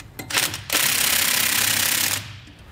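A power impact tool tightens the top bolt of a ProPride 3P weight distribution hitch with sway control, giving a loud, steady buzzing rattle that runs about one and a half seconds after a few short bursts.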